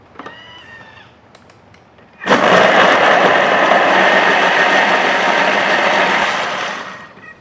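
Thermomix blending shallots and belachan into a paste: after a few quiet seconds the motor bursts into a loud, steady high-speed whir that holds for about five seconds, then winds down.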